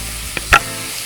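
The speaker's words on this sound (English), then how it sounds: "we're just going to let that cook 2 minutes, 3 minutes, just till the apples just start to get softened a little bit" Sausage and Granny Smith apple pieces cook in a pan with a steady, soft sizzle, broken by one brief utensil tap and a short stir, close by and with no voices.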